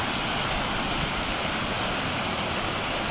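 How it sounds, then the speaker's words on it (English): A waterfall roars steadily with dense, unbroken rushing water, loud and constant throughout with no voices. "That's a pretty good waterfall right there."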